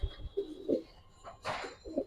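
Soft, short coos from pigeons in a loft come in a few brief bursts, quiet and close with no voices.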